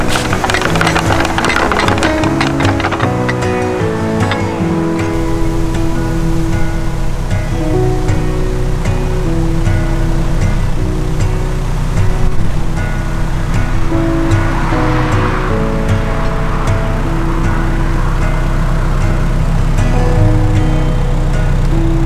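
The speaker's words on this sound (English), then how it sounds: "now I have to open the normal ground paddles to fill up the rest of the lock." Water rushing into a lock chamber on the Droitwich Barge Canal as the ground paddles are opened, a steady, loud, broadband roar continuing throughout with some tonal background sounds layered over it.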